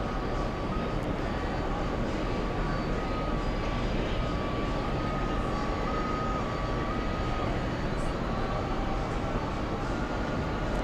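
An Air India airliner taxis at JFK airport, its engines giving a steady distant whine over a broad constant roar of airport noise, with a faint high tone running through it.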